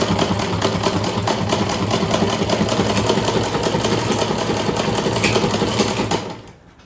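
A tailor's sewing machine stitches clothes in a rapid, steady mechanical whir with fine rhythmic ticking, loud and close, running continuously before stopping abruptly near the end.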